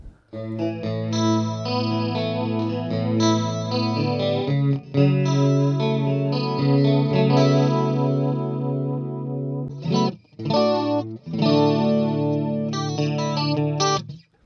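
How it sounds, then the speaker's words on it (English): Electric guitar through the chorus effect of an EHX Canyon delay pedal, sustained shimmering chords with a wavering modulation, played loud and close with short pauses between strums. "That's not a bad sounding chorus pedal, really, if you just wanted to use it like that."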